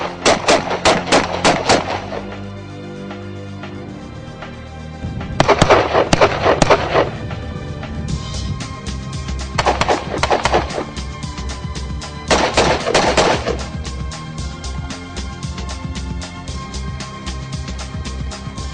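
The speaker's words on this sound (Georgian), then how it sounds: "მიზანში მაქსიმალურად სწრაფი და ზუსტი სროლით ფასდება" Loud bursts of rapid gunfire in several quick volleys during a special forces shooting drill, separated by short pauses with scattered single shots, sharp and close.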